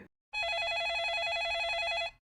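A telephone rings for an incoming call, one continuous warbling electronic trill lasting almost two seconds, loud and close, then cutting off into silence.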